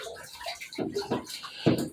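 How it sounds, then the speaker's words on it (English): Water drains from a detached sink trap into a bucket, heard as a few short close splashing gushes over about two seconds. "Obviously water's going to come out, so I have a bucket ready."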